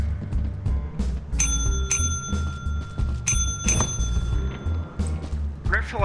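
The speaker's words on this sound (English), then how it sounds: "I feel like if you just keep ringing the bell" A bell in a video game rings repeatedly in short clusters of bright, metallic dings, with game noise and people talking over it.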